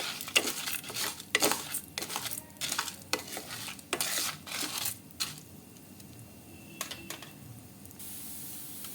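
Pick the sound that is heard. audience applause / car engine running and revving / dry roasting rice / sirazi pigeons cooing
dry roasting rice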